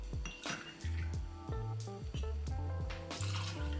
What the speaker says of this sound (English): We're going to use 2 ounces of whiskey.